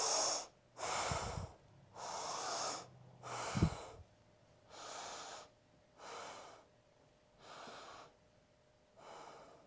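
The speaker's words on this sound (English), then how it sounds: "Let's do 5 deep breaths." Slow, deep breathing during a hatha yoga balance pose, with about eight long inhales and exhales in a steady rhythm, close and clear in a quiet room.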